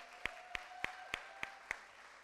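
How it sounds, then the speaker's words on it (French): Hand clapping at a church gathering, heard as six crisp, evenly spaced claps, fairly faint, with a thin steady tone underneath and no talking. "On l'applaudit bien,"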